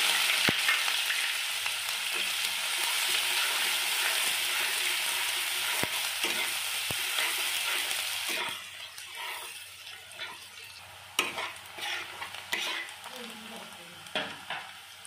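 Chopped onions hit hot oil for an egg curry and fry with a loud, broad sizzle, then the hiss drops away and spoon strokes scrape and clack against the pan in irregular bursts.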